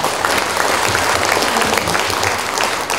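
Loud, close, dense applause from a crowd welcoming a new president at a Korean Buddhist inauguration ceremony, continuous clapping with no speech.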